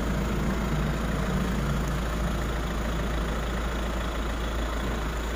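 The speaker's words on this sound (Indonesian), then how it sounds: "Mesin sudah menyala ya" A 2022 Hyundai Staria seven-seat van idles steadily after a push-button start, giving a continuous low engine hum with no talk over it.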